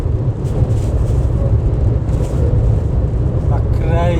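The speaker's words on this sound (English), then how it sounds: "As these trucks pass us" Trucks roar past close by on a rainy road to Jacobsdal, a heavy, continuous low rumble and tyre hiss under people talking inside a vehicle.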